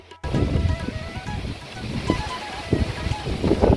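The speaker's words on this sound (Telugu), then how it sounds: "చూసారా గాలి చూడండి ఇంకా వర్షం పడుతుంది" Strong wind gusts roar against the microphone with a steady rush of rain, loud and continuous throughout, in a village in Srikakulam.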